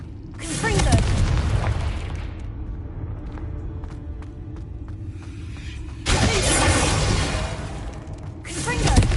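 Confringo spell blasts in Hogwarts Legacy burst out as loud booming explosions with crackling debris, one near the start and another later, while a player calls out spells.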